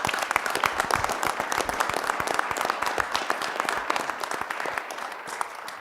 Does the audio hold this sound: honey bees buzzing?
no